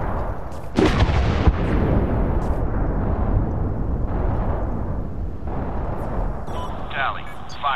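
Heavy gunfire and explosions in the Medal of Honor video game, dense booming blasts and rolling rumble that go on without letup, loud and close, with radio-style voices talking over the barrage.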